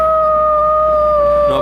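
People waiting for a train imitate a dog's howl: one loud, sustained, steady vocal howl holding a single pitch, close to the microphone, fading at the very end.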